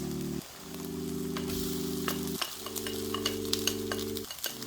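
Rice being stirred into a frying pan while cooking fried rice, scraping utensil strokes and soft sizzle under a steady low background hum, with no talk.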